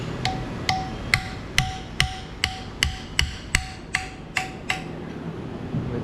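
A hammer striking a metal punch against a head plug on an engine head, about a dozen evenly spaced metallic taps with ringing overtones, steady rhythm, close and alone.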